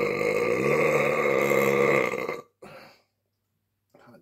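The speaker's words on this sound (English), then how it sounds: "Got a belch." A long, loud, deep belch follows a swig of OE 800 malt liquor from a 40-ounce glass bottle. It rumbles for over two seconds, then a short second burp and a faint trailing breath follow.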